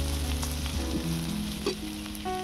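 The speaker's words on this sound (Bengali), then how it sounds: "পেঁয়াজ রসুনটাকে আমি একটু আগে ভেজে নেব।" Onion, ginger and garlic fry in a pan in a steady, close sizzle with a few stirring scrapes and no talking, a busy crackle running throughout.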